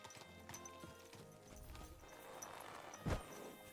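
Quiet, rhythmic hoofbeats of a horse plod along in the video game Kingdom Come: Deliverance 2, with a sharper thud near the end, faint under soft game background sounds.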